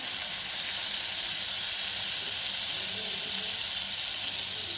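A steady, close hiss of butter sizzling in a hot pan, bright and continuous without a break.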